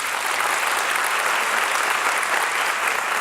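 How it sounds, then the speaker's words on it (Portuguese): An audience at a talk on mental health claps together in a steady, dense round of applause, loud and continuous throughout. "uma salva de palmas"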